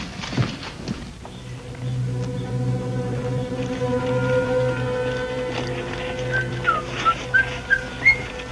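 A person whistles a slow, wandering tune of held notes, ending with a few short rising chirps, over faint background shuffling.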